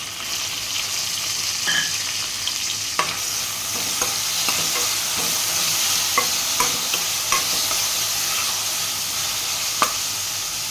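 Tomatoes and chillies frying in a pan for dal give a loud, continuous sizzle, broken by scattered clicks and scrapes of a stirring spoon, with no speech.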